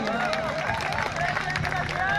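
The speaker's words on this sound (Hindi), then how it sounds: "बार जोरदार तालियां इस कवि सम्मेलन के लिए" Audience at a college freshers' party poetry event clapping and cheering, a steady, dense burst of applause with crowd noise, and a voice speaking over it.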